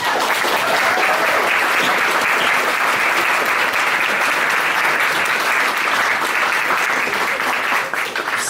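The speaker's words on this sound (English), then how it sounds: "I think you deserve some applause for that." Steady, dense applause from a convention audience for dance competitors on stage, a full even wash of clapping that holds loud throughout and thins slightly at the very end.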